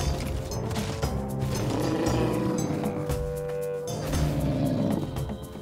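A cartoon monster arrives with a deep, growling roar that swells and rumbles over clattering, crashing effects, loud and close for several seconds with no speech.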